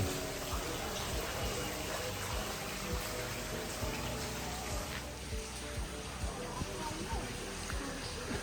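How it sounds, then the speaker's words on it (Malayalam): Steady, heavy rain pours outside in a constant dense hiss, with no break throughout. "പുറത്ത് നല്ല മഴ"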